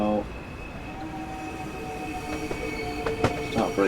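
A Southeastern high-speed train in Train Sim World 2 braking on the approach to Rochester station; a low rolling rumble with rising squeals and metallic clanks toward the end, with a voice talking over it.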